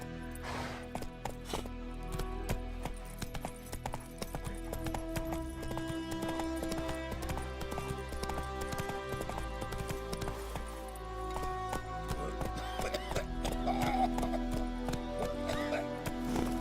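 A horse gallops in the video game The Witcher 3: Wild Hunt, with rapid, continuous hoofbeats pounding close and loud over a bed of background game sound.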